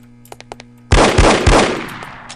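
Close, loud bursts of gunfire from the spy shooter No One Lives Forever: a few faint clicks, then a heavy volley of three or four shots that rings out and trails off.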